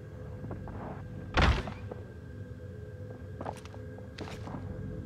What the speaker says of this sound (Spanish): Escuché la puerta, pero...